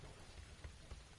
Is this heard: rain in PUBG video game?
yes